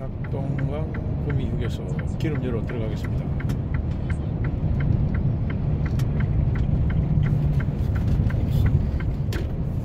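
A car drives steadily along a road toward the Gyeongju tunnel, its tyre and engine roar forming a continuous, fairly loud rumble with faint rhythmic ticks, and a voice briefly heard early on.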